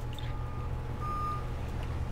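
Vehicle reversing beeps from the Jurassic World Evolution video game sound in a steady repeating series of tones over a low engine rumble, with no talking.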